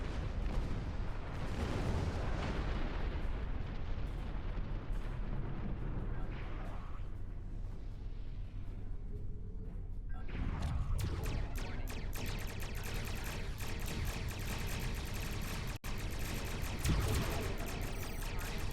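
Weapons fire in Star Trek Online, with a sustained barrage of booming, crackling shots and blasts that thins briefly midway, then resumes as a dense, rapid stream of pops and bursts.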